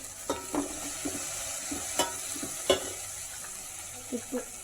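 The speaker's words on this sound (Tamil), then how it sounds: "வெங்காயம் எண்ணெயில் வதங்கணும், அதுக்காக தான் நம்ம ஆட் பண்ணுறோம்." Sliced onions fry with salt in hot oil in a pan while being stirred, giving a steady close sizzle with scattered sharp clinks and scrapes of the spoon and no talking.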